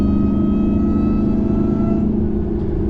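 A Ram TRX with a B Woody intake and Predator pulley idles with a steady, loud supercharger whine over a deep engine rumble, close up and constant throughout, with no one talking.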